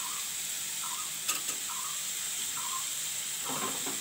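Fried potatoes sizzle softly in a pan as salt goes in, a steady faint hiss with a couple of brief spoon scrapes and clinks, heard close and without talk.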